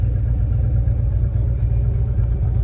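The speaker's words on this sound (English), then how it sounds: "These guys just pulled up on a motorbike." A Harley motorbike idles close by, a steady, loud low-pitched engine rumble that holds unbroken throughout, with no voices.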